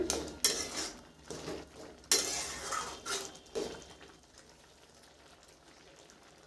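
A spatula stirring grated bottle gourd in a metal pot on a gas stove, with a few sharp clanks and scrapes followed by softer shuffling that fades toward quiet, close by, with no one talking.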